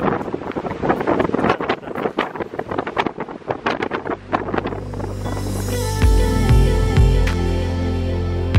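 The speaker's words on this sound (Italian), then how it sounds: "Ragazzi, tira davvero tanto vento." Strong wind buffets the microphone in loud, gusty bursts outdoors on a trip through Madagascar, then gives way to a steady, low roaring hum with faint tonal whines.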